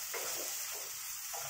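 Onions sizzle while frying in a pan with soft crackling and a few brief stirring scrapes, steady and close, no voices.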